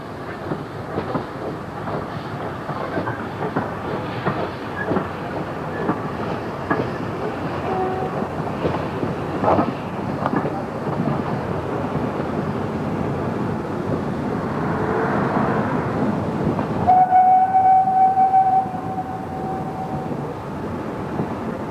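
A Great Western Railway steam locomotive runs along the rails past a station, with a steady rumble and rhythmic clatter of wheels building up, then a sustained whistle-like tone near the end.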